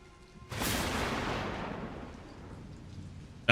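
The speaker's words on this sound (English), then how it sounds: "I guess thunder is like the primordial jump scare for anybody living on planet Earth." Thunder in the video game Resident Evil Requiem: a sudden loud crack that rolls into a long rumble and slowly fades, with a brief sharp noise at the very end.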